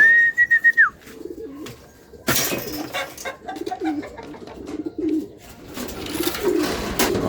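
A racing pigeon arriving at its loft coos softly several times amid flapping and rustling, with a short whistle at the start and scattered clatter nearby.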